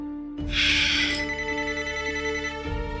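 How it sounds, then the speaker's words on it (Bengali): A telephone ringing in a Bengali TV serial scene, a short bright electronic ring tone sounding alone and close for a couple of seconds. "অনিশবাবু ফোন করছেন ফোন কি ধরবো"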